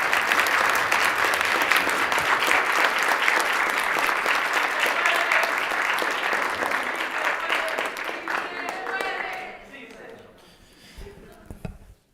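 Applause in a state assembly chamber during a floor session: loud, sustained clapping from many people that gradually thins out and dies away near the end, leaving a few scattered claps and room noise.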